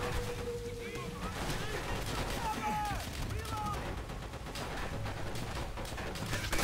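Machine-gun fire in a World War II Pacific combat video game, a continuous crackle of distant bursts and scattered shots under steady battle noise, with voices talking over it.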